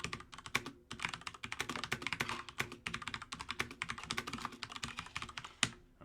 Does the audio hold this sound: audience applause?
no